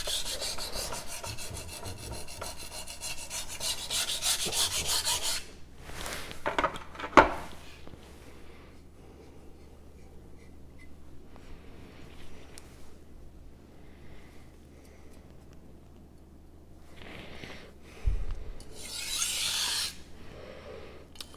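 Magnacut steel knife blade stroked across a sharpening stone, repeated gritty rasping passes in bursts separated by quiet pauses, close and fairly faint.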